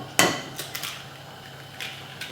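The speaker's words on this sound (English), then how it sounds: "you're just going to crack your 2 eggs" Two eggs cracked into a bowl of flour: one sharp, close crack of shell against the rim, followed by a few lighter taps and clinks.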